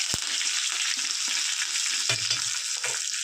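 Curry leaves spit and crackle in hot tempering oil, a continuous close sizzle with a sharp pop at the start and some stirring clatter.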